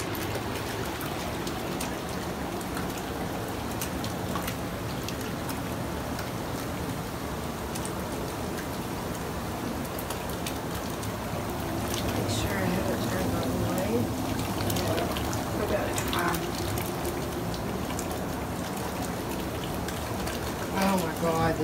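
Water rushes and bubbles steadily as the jets of a jetted tub run, a dense, continuous churning wash close by that swells slightly louder partway through.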